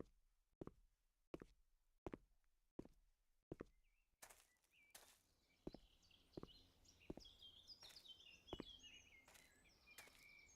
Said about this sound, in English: can you easily hear the birds chirping?